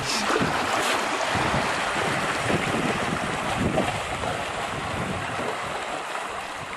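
A Searunner 31 trimaran reaching in light airs, with a steady wash of water along the hulls and constant wind rush across the microphone.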